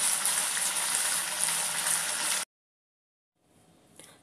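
Veg Manchurian balls frying and stirred in sauce in a pan give a loud, dense sizzle for a couple of seconds, then cut to silence before a faint sizzle returns.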